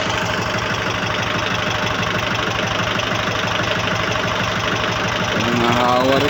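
A tractor engine idles close by with a loud, steady, rapid knocking throb that runs throughout, swelling a little toward the end.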